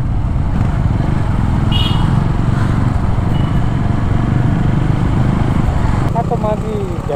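Motorcycle engine revving loudly and steadily close by on a ride toward Kalamasi Dam, a continuous throaty drone throughout with brief faint voices near the end.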